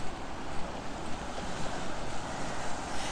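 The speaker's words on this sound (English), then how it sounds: "it's lovely just to listen to the water lapping against the" Soft continuous wash of tidal water lapping against the shore as the tide comes in, with wind buffeting the microphone and no voices.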